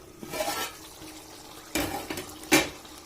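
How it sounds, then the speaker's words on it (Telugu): A metal lid set onto a pot of spicy chicken curry, heard as a few clanking knocks of cookware over a low background hiss. "ఒక్క పది నిమిషాలు అయితే నేను మూత పెట్టుకుంటాను"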